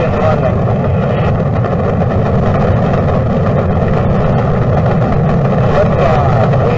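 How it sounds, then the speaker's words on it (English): Apollo 11 rocket engines roaring at liftoff, a loud, dense, continuous rumble that stays steady from start to end with no pauses. "Liftoff. We have a liftoff. 32 minutes past the hour. Liftoff on Apollo 11."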